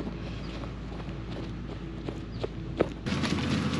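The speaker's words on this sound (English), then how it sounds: "let's get these cows out of here." Cattle being driven out on a ranch, heavy hooves clopping and thudding close by in an irregular walking rhythm, with wind noise over the microphone and a louder rush near the end.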